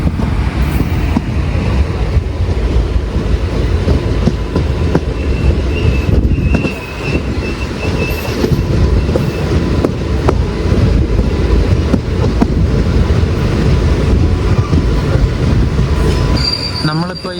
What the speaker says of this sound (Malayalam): ചെന്നൈയിൽ നിന്ന് മംഗലാപുരത്തേക്ക് പോകുന്ന മംഗളൂരു സെൻട്രൽ മെയിലാണ് വരുന്നത്.